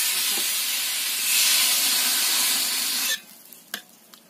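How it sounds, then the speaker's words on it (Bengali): Water hits a hot pan of fried spices with a loud, rushing burst of steam hiss lasting about three seconds, then cuts off to quiet with a couple of small clicks. "এবার জল দিয়ে দেবো।"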